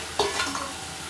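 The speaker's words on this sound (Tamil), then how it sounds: "நிறையா உருளைக்கிழங்கு போட்டு வதக்குங்க" Potatoes sautéing in a pan for a dried-fish and raw mango curry: a quick spatula scrape and clatter over a low, steady sizzle, close and quiet, with no talking.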